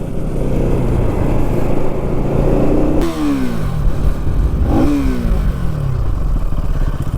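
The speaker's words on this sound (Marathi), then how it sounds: "आपले लाल बाईक प्रथमे चालवते तसंच मीही चालवतोय" A motorcycle engine rumbles steadily nearby, then revs up and down in rising and falling sweeps as it rides past.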